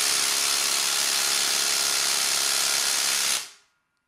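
A 20 volt cordless impact driver unscrewing, a dense continuous rattling hammer buzz held steady for over three seconds before cutting off abruptly.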